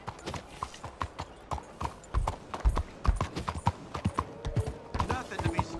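Horse hooves clip-clop steadily in Red Dead Redemption 2, a rhythmic run of close, distinct hoof strikes with brief voices speaking over parts of it.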